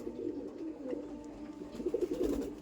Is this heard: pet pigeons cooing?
yes